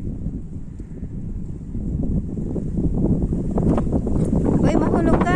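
Strong wind gusts across a Hong Kong hilltop on High West, a loud, steady roar of buffeting that builds over the clip with no clear voices.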